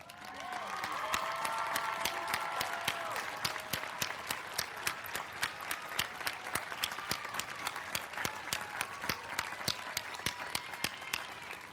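A university spring commencement audience applauds faculty representatives: a broad, sustained wash of clapping from a large crowd that swells early and then continues steadily, with individual sharp claps standing out throughout.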